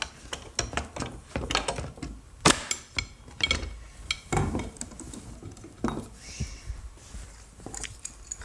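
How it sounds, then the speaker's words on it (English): Clamp being tightened on wooden cabinet parts with protective pads, a series of sharp clicks, knocks and metallic rattles in irregular bursts, close and fairly loud, with no talking. "I'll just put this clamp on lightly to pull these together."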